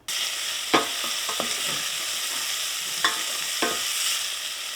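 Bacon cooking on low heat in a pan, a steady close crackling sizzle with a few distinct scrapes of turning or stirring, heard alone without talk.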